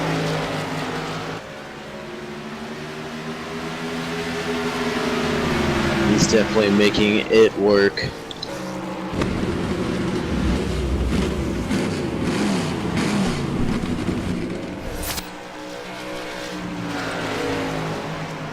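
Race cars including the Bud Light car roar around a track, engines rising and falling as cars pass, with a sharp squeal midway, all under continuous commentary talk.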